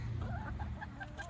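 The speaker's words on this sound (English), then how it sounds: "So she's kind of a pretty hen." A pretty hen that lays blue eggs clucks softly in a few short, repeated calls on a homestead farm, faint and close against a low background rumble.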